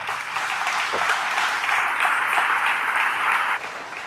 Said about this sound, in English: I've got to give Brad a round of applause